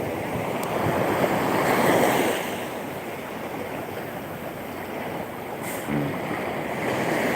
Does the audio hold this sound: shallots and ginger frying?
no